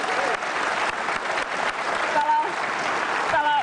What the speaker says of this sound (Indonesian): Kasih tepuk tangan dong untuk Bang Rocky.